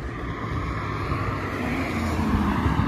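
A Subaru BRZ passes on a road, a steady broadband engine and tyre rumble that holds loud and close throughout, with no talking.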